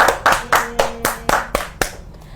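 About eight distinct claps at a steady rhythm, close and fairly loud, with a faint tone sounding under the claps, coming from a live online legal consultation broadcast.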